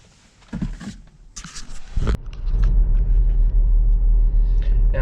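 BMW X1 SUV on the move, a steady loud engine and road rumble from inside the cabin, building after a few brief knocks and thumps at the start.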